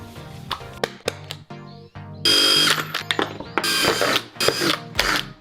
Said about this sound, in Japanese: 穴を開けるときは2つ穴を開けるので、なるべく離して穴を開けてください。